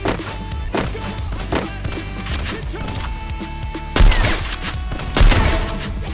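Gunfire in a battle-royale style shooting game, with sharp sniper rifle shots ringing out at intervals, two loud cracks standing out over a steady backdrop of game ambience and scattered smaller impacts.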